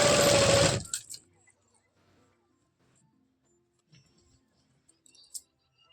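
A sewing machine stitching fabric for palazzo pants, running in a steady loud whirring burst at the start and then stopping, followed by near silence with a few small clicks and handling noises.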